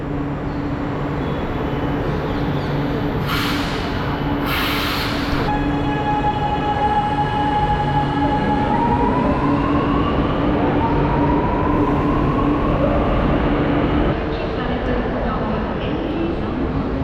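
A metro train in Chennai rumbles steadily into a station, with a rising electric whine and brief bursts of hissing brakes, under faint background voices.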